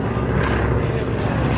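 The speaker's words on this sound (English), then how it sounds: "Here comes Chuck Tippett closing in with the Travel Air 4000" A Travel Air 4000 biplane drones overhead at an airshow in Virginia, its engine giving a steady, loud, broad rumble throughout with no talking.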